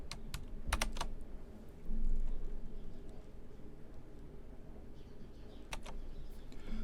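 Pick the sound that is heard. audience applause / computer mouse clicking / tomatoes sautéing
computer mouse clicking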